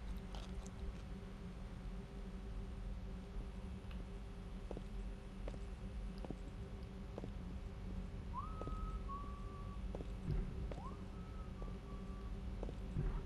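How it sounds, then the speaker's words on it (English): Eerie whistling in a horror video game rises over a low ambient hum, two short whistled phrases, faint and somewhat distant, with scattered soft clicks around them. "That whistling again."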